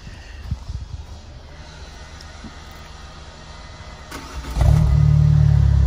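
A car engine with an aftermarket exhaust idles quietly with faint clicks, then starts up or revs into a loud, deep, steady rumble near the end.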